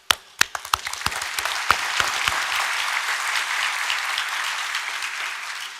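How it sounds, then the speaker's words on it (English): Audience applause at the 2024 Tang Prize award ceremony for three scientists honored in biopharmaceutical science, opening with a few sharp individual claps that swell into steady, dense clapping from a large hall crowd, fairly loud and sustained without speech. "I would like to invite everyone here to give our warmest applause"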